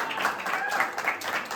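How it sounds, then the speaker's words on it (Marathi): Applause greeting the captains of local cricket teams at a village gathering, a continuous moderate clatter of many hands that stays fairly even and somewhat distant, with no voices on top. "जोरदार टाळ्या वाजवून त्यांचं स्वागत करूया"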